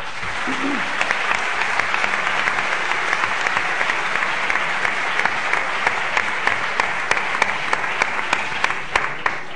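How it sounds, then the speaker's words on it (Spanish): Sustained applause from an audience at an interview event fills the room, a thick, even wash of clapping with crisp individual claps popping out near the mic, and a brief voice near the start. "Antonio José Gómez Díaz, un aplauso para él, por favor"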